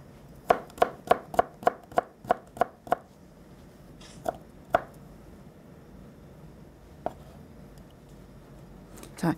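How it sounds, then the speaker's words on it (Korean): A knife chops vegetable filling into fine thin strips for spinach buckwheat rolled crepes: a quick, even run of about nine crisp board taps, then a few scattered single chops, with no voices. "그래서 곱게 실을 썰어 주시면 좋겠습니다"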